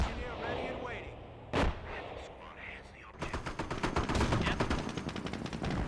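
Booby trap going off in the Company of Heroes battle game: a sharp blast cuts through background combat noise, then rapid bursts of gunfire and artillery crackle continue. A voice talks quietly underneath.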